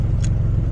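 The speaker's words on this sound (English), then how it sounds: "We're out driving the car, dude." Turbocharged KA24DE engine of a Nissan 240SX S13 rumbles loud and close while driving, a dense low throbbing drone in a brief burst.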